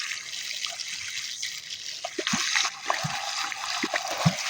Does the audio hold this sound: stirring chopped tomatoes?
no